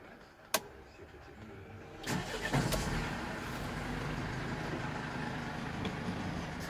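Engine of a 2015 Mercedes Sprinter 316 van cranks and fires after a sharp click, then settles into a steady, moderately loud running drone with no talk.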